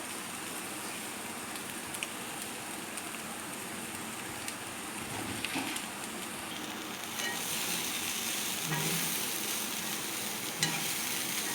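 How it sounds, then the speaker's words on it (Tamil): Masala chickpea sundal stirred with salt in a lightly oiled pan over low heat gives a steady soft sizzle and scraping that grows louder and busier in the second half, with occasional spoon knocks and no talking. "நல்ல சிம்மில் வச்சு ஒரு டூ மினிட்ஸ் இதை வந்து கிளறி கொடுத்துக்கிட்டே இருங்க"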